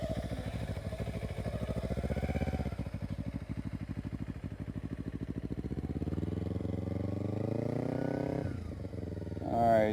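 A motorcycle idles and putters as it turns slowly at full lock and maneuvers, its engine note steady and close, then rising briefly as it moves off.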